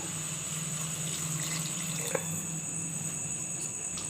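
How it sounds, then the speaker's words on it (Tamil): Water streams steadily into a cooking pan while sambar is made, a soft continuous pour with a faint background hum and one small clink partway through; no talk. "இப்போ தண்ணி சேர்த்துக்கலாங்க."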